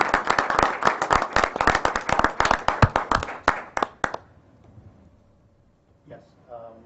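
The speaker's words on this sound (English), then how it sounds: "I'd ask for a large round of applause for these dedicated volunteers." Applause at a borough council meeting for dedicated volunteers: dense, close hand clapping from a small group for about four seconds, then it stops abruptly, leaving quiet room noise and a brief voice.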